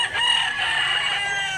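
A rooster crows close by at a rural chicken market in Mantalungon, Barili, Cebu, a single sustained harmonic call over low background noise.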